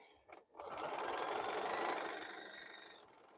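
A Bernina sewing machine starts up after a brief click and stitches in a fast, steady mechanical whir for about three seconds while quilting a bowl cozy, close and clear.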